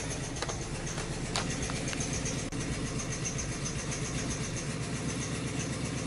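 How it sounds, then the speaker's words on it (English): Car engine idling low while a torque converter issue is being sorted, a continuous mid-pitched rumble with steady patter, close and even throughout. "Look at her, idling a lot lower."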